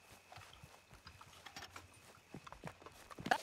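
Quiet clip-clop of a horse's hooves walking in the RedM western roleplay game, a soft irregular series of hoofbeats with a brief sharper sound near the end.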